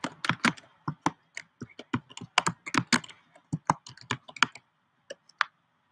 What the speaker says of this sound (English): I'll even type it out.